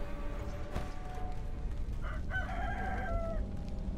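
A chicken clucks and a rooster crows in the video game Sekiro, a short crow rising over faint ambient game sound.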